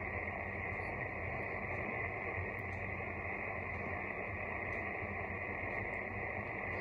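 Steady ham radio interference noise hisses and buzzes without a break, a flat, dense crackle at low volume.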